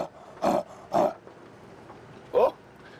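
A man imitates a leopard's roar with his voice, a series of short, rasping, grunting bursts, three close together and another after a pause, loud and near against faint outdoor background at a safari game reserve.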